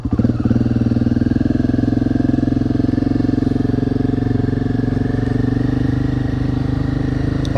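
A motorcycle with newly replaced steering bearings rides along steadily, its engine a loud, close, continuous throbbing drone with a fast regular pulse and no voices.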